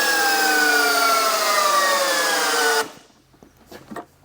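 A DeWalt 999 cordless drill on a 15 Ah FlexVolt battery runs loud and steady for nearly three seconds with a whining motor tone that slowly drops in pitch. It then cuts off abruptly, leaving faint scattered clicks and handling noise.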